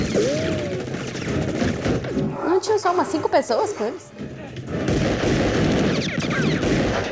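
Bursts of gunfire and crashing impacts from a shootout scene in the TV series Lost ring out near and loud in the middle stretch, with people talking excitedly in Portuguese before and after the shots.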